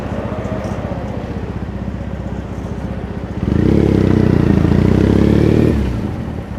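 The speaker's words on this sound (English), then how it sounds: "That's our supercar for the day." A supercar engine idles with a throaty burble close by, then swells into a loud, sustained rev for a few seconds before falling back to idle on a Tokyo street.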